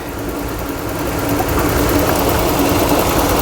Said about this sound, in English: So we got the engine running.